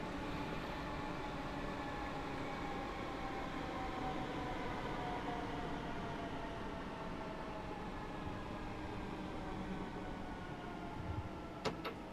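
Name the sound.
Class 313 electric train running in Train Sim World 3 video game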